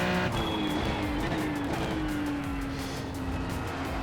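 A Ferrari GT3 race car at Spa in the iRacing simulator holds a loud, steady engine note with a slowly shifting pitch as it runs down a straight, with no speech over it.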